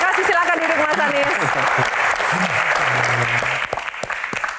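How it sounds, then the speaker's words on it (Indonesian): An audience at a live Q&A event applauds as a guest is invited to sit, with dense clapping under a speaker's voice and a little music, the applause thinning toward the end. "Tepuk tangan, terima kasih."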